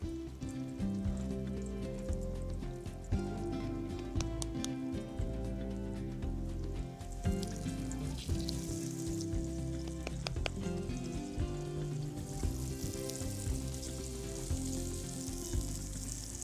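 Floured fish fillets fry flesh side down in a hot pan, a loud, dense sizzle with sputtering pops that runs continuously throughout without any voices.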